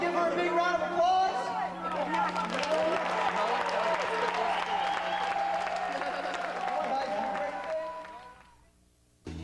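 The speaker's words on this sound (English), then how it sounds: "Give her a big round of applause." An audience applauds and cheers a female performer at a 1998 band showcase, a dense, sustained wash of clapping mixed with crowd voices that holds steady, then fades out near the end.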